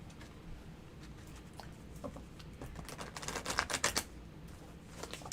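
A tarot deck being shuffled nearby, soft riffling and tapping card flutters building into a quicker burst of crisp flicks, quiet and close with no talk over it.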